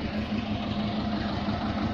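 A tractor-pulled tourist train in a park in Yoshkar-Ola runs its engine with a steady, close, droning hum that holds constant and carries no speech.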